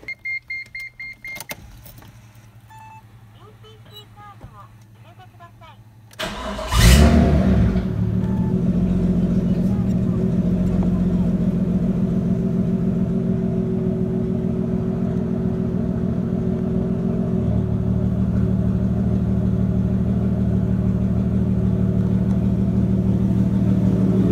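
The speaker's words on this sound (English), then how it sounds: "So they corrected that, and the car is running smooth." A car engine, now repaired, starts with a sharp burst and then idles steadily and smoothly, a loud continuous rumble that holds for the rest of the clip.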